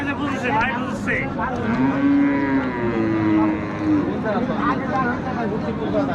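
At a busy cattle market, a cow lets out a long, loud, close moo that rises and falls over several seconds, with a crowd murmuring and talking underneath.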